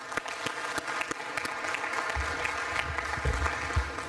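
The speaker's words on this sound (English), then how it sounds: "let's have a round of applause for all of ourselves" Audience applause fills a conference hall at a closing session, steady dense clapping throughout, loud and sustained with a few sharper individual claps standing out.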